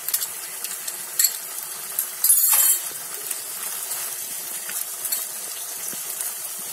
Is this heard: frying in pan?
yes